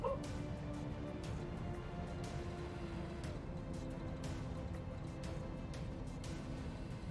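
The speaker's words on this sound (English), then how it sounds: "My dog's barking up a storm." A dog barks and yips steadily across a noisy background, the barks sharp and repeated over a constant hum of game sound.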